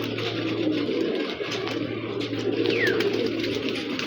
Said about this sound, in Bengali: ও অনেক অ্যালার্ট কবুতর, প্রচুর অ্যালার্ট কবুতর।